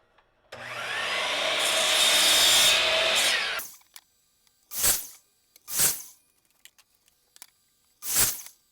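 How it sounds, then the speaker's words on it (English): A power tool cuts chamfers into the bottoms of wooden side table legs, a sustained loud whine for about three seconds followed by several short separate bursts. "I cut a chamfer on the bottom of each leg on all four sides"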